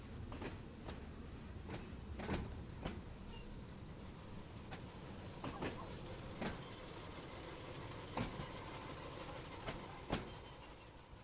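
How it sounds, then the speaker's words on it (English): A train in the Train Sim World game, on the Isle of Wight line, rolls past on the rails with repeated clicks from the wheels crossing rail joints, a steady rumble and a faint high squeal throughout. "Here comes the train."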